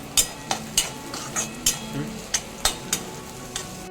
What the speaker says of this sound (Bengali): প্রথমে দিয়ে দিচ্ছি রসুন আর পেঁয়াজ। এটা লাল লাল করে ভেজে নিচ্ছি।